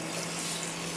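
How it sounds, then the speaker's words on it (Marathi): Water pouring into a pressure cooker holding moong dal, a steady, close splashing stream throughout the short moment, with no talking. "आतां मूग कुकरान घालून भितर उदक घालप"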